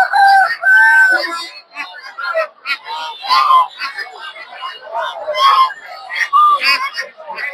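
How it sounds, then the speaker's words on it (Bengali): At a busy poultry market, chickens and roosters cluck and crow loudly in overlapping bursts, with a cock-a-doodle-doo rising near the start and people chattering among the birds. "আমরা কিছু মুরগি দেখতে পাচ্ছি"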